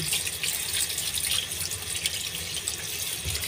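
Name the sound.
washing saba bananas under running tap water in sink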